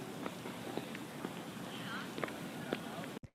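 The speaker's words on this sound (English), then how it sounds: "I have two vinyl noises and this little street noise" Layered vinyl crackle and a faint street-noise bed used under warped drums, with a steady hiss and scattered soft pops and clicks at low level, cutting off abruptly at the end.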